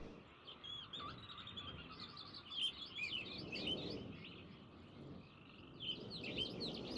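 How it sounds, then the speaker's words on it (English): Dense chirps and tweets from many birds layered over a steady chorus of tree frogs in a lush outdoor area of the realMyst game, continuous ambient sound with no talking. "Lots of bird noises, lots of tree frogs. I can hear lots of tree frogs in the background noise of this."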